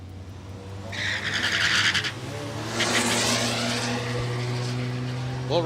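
Drag racing launch at Palmyra Raceway with a Nissan Skyline and a Volkswagen: engines drone steadily with rising tonal whine, bursts of tire squeal and hissing spin around the start, loud and close throughout.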